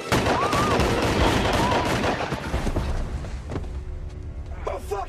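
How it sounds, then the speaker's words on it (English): Gunfire in a tense film standoff, a loud, dense burst of shots crowding the first few seconds under shouting, then easing into a quieter tail with voices. "I didn't mean to shoot you, I meant to shoot him!"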